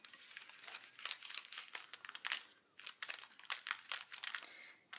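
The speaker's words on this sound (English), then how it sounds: "I'm going to fold the top of my bag down" Cardstock treat bag top being folded down by hand, producing a run of close, crisp paper crinkles and creases in quick irregular bursts, with no talking.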